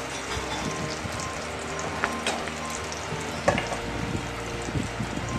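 Bay leaves split in half sizzle and crackle in hot oil for a Bengali prawn and elephant foot yam curry, a steady close frying hiss with occasional sharp pops and spatters.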